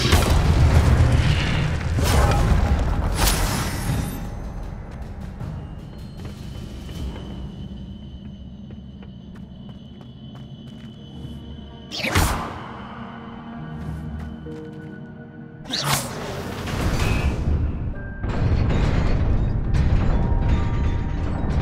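Fire spell blasts in the Hogwarts Legacy video game, with heavy booming bursts around the start and a couple of sharp whooshing eruptions later, separated by quieter rumbling stretches of game ambience.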